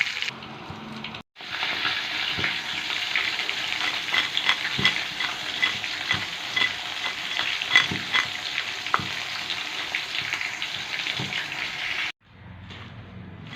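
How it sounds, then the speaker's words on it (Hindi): Potato chips crackle and sizzle steadily in hot oil, a dense, close frying hiss with faint stirring knocks that runs nearly unbroken except for a brief drop near the start and another near the end. "अब हम इसको आपको फ्राई करके दिखाते हैं। तेज़ ऑयल में फ्राई होगा, ये ठंडे ऑयल में फ्राई नहीं होगा।"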